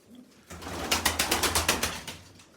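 Pigeons coo in a steady run of soft, repeated pulses, close by, with low rumbling background noise and no talking.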